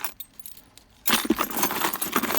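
A bunch of scrap metal keys is tossed onto a pile of keys, setting off a sudden loud metallic jangle that keeps rattling and clinking closely after a quiet moment.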